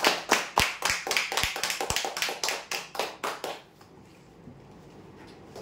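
Applause at a weekly prize-draw ceremony: about a dozen and a half crisp, evenly spaced claps that sound like a small group, lasting around four seconds before dropping to a quiet room.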